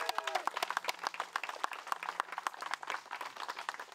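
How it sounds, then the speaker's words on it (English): A crowd applauds at an outdoor charity disc golf event, with steady, scattered claps lasting the whole stretch at moderate distance. "Round of applause."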